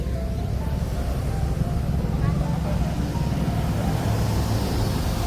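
Steady broadband roar of a traffic jam on the road up to the Bharadi Devi temple fair in Malvan, a constant wash of engines and road noise with faint voices mixed in.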